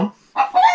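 A grey hen clucking near old abandoned houses, two short, close bursts with a brief pause between them and no voices.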